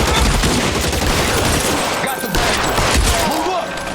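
Sustained video-game gunfire from LA Noire, a dense, loud fusillade of overlapping shots with a brief lull midway, continuing under scattered game voices.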